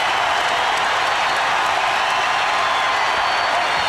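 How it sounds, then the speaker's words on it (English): A packed basketball arena crowd roars steadily and loudly during a Lakers at Sacramento Kings game in 2003, a dense wall of cheering and yelling with no letup. "Someone ought to tell the Maloof boys this crowd can't yell any louder than this"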